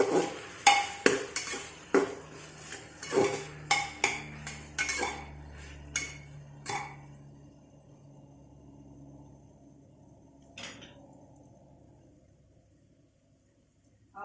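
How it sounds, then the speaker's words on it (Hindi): A metal spoon clatters and scrapes against a pot of vegetable pulao in a quick series of clinks, then the scraping fades to a quiet low hum. "अच्छी तरह से मिक्स कर लेंगे।"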